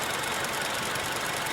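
Steady running of a healthy 2014 Toyota Kijang Innova G manual engine, an even, close mechanical hum and knock that holds level without pauses.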